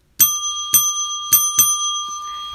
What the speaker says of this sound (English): Don, can you ring your bell and announce the hourly winner?